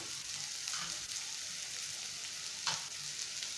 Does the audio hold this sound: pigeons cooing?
no